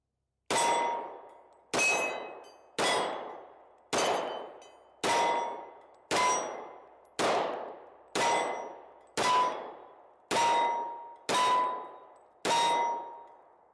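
Eleven evenly spaced shots from an H&K P2000sk .40 S&W pistol each ring a steel target with a bright metallic clang that decays between hits, close and loud with no talk.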